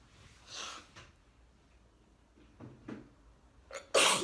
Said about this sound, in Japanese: いつもくしゃみ出るよね、ショールームすると。